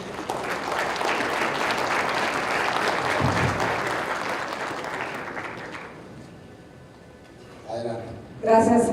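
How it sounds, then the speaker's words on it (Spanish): A crowd at a mayors' forum panel applauds loudly and steadily for a panelist for several seconds before the clapping fades, then a voice starts speaking. "Un fuerte aplauso, por favor."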